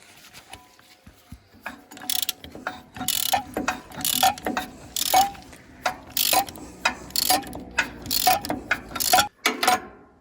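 Ratchet wrench tightening bolts on counterweights fitted to a Shifeng SF-354 tractor, with repeated bursts of rapid clicking strokes, fairly close and loud, with a few light metallic knocks between them.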